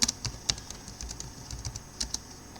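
Keystrokes on a computer keyboard as a pip install command is typed into a terminal, a quick irregular run of light clicks at close range with no talking.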